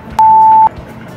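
A timer beeps at the start of a game challenge, one loud, steady electronic tone lasting about half a second over a quiet background.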